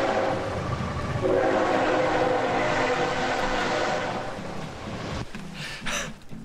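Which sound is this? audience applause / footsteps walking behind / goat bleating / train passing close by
train passing close by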